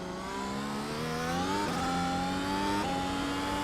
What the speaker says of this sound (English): Drives as you would expect a Formula 1 car to drive, certainly.